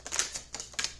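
Quick, crisp riffling clicks in a few short bursts, like a deck of cards being shuffled up close.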